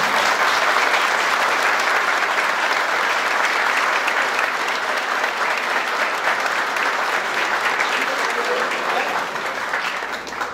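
A large audience applauds at the opening event of a political campaign in Levalle, a loud, dense, sustained wash of clapping that runs steadily for about ten seconds before easing slightly at the end, with no talking.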